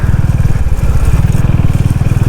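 A motorcycle fitted with saddle bags eases through a narrow gap on a ride from Chandigarh toward MacLeodganj in Himachal, its engine giving a steady, close, low throbbing drone throughout with no one speaking.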